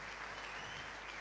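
Steady applause from a church audience during a worship celebration service, a dense, even wash of clapping filling the whole moment with no voices on top.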